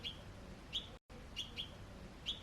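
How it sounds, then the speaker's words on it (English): Birds chirping in a courtyard garden with trees nearby, short bright tweets at intervals over a soft, steady outdoor background, with a brief dropout midway and no voices. "I tried to capture the natural chirping sounds while recording."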